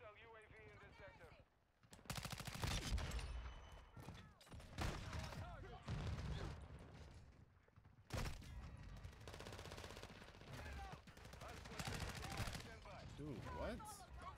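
Dense bursts of automatic gunfire and explosions from a first-person shooter game rattle loudly and almost continuously, broken by a brief pause, with players talking over the shooting.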